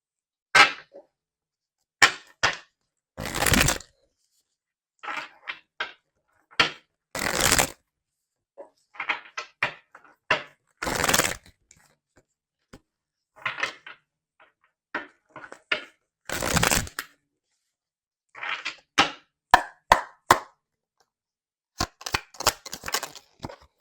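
Tarot cards being shuffled and drawn in irregular bursts of sharp riffling and snapping, close up and separated by silent pauses.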